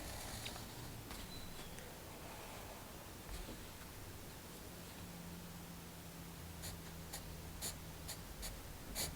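A pencil scratches and rustles across paper while sketching a skirt, faint steady strokes with a few sharper taps, no talking.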